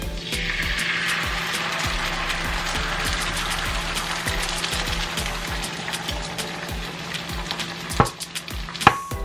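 Egg whites fry in a pan beside sweet potato and mushroom, a continuous close sizzle broken by scraping stirs and a couple of sharp utensil knocks near the end.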